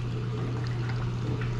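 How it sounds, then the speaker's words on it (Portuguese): Water pours steadily from a hose while a large aquarium is cleaned, giving a continuous, even rush and splash with a low hum beneath, no voices. "Já tá vindo até água quente aqui"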